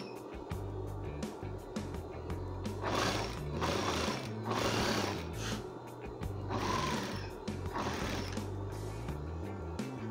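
A sewing machine topstitches a flared midi skirt, whirring quietly in steady mechanical runs with brief pauses between them. No one speaks.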